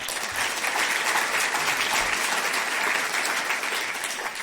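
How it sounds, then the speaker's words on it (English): An audience at a climate closing-remarks event claps for John Moreau, a sustainability officer, in a dense, even round of applause that continues without a break. "So if there is going to be the first applause, let's put it together for this man, John Moreau"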